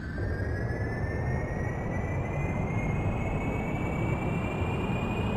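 An airplane engine in Kerbal Space Program runs at steady full power during takeoff, a continuous loud roar with rising whine tones that climb slowly in pitch, with no voices.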